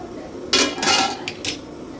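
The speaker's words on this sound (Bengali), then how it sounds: "সাত থেকে আট মিনিট পর ঢাকনাটা তুলে নিচ্ছি" A lid comes off a cooking pot of simmering vegetable curry of potato, pointed gourd and pumpkin, with a few close metallic clanks and scrapes in quick succession over a quiet kitchen background.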